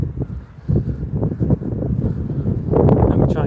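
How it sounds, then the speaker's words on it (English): Strong coastal wind buffets the microphone in continuous gusty rumbles, loud and close, swelling toward the end. "Sorry, I know it's quite windy again."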